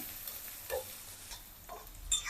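Chillies, garlic and onion sautéing in oil in a pan give off a quiet, soft sizzle, broken by a few light scrapes and clinks of a spoon stirring, close by and with no one talking.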